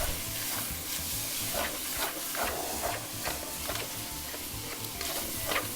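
Pizza pasta with sauce stirred in a pan on the stove, a steady sizzling simmer with repeated soft scraping strokes of the spoon, close and fairly quiet, without any talking.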